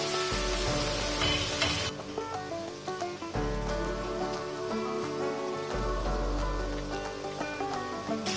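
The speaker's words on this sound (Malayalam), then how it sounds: "എണ്ണയിലൊന്നും മുട്ടാതെ ശ്രദ്ധിച്ച് നമ്മൾ മാറ്റിയിട്ട് വറുത്തെടുക്കാം." Bitter gourd chips frying in hot oil produce a steady hiss and crackle of sizzling throughout, partly buried under louder background music.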